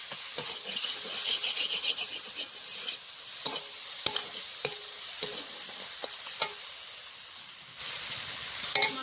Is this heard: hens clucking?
no